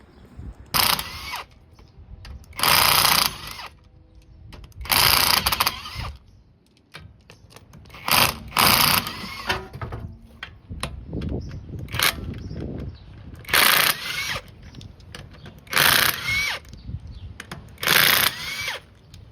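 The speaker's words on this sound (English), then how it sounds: "So first we're going to start with removing the front wheels with the 17mm socket." The front wheels of a 2001 BMW 325ci (E46) come off with a 17mm socket, the wrench spinning in repeated loud bursts of rapid clicking, separated by short pauses and quieter handling noise.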